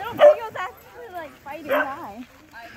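Feisty beagles playing and chasing huskies at a dog park give off sharp yips and whining barks in two close, loud bursts, with quieter whimpering between them.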